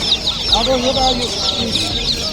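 Turkeys and other poultry at a busy pet bird market call and cluck continuously, loud and close, over a constant market din.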